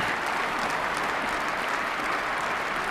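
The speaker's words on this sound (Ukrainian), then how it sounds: "від Владимира Путіна, то майже уся зала почала аплодувати, крім Шойгу та Лаврова" A hall audience applauds during Putin's speech announcing suspension of the strategic arms treaty, a steady, dense wash of clapping from many hands at moderate distance, with no voices on top.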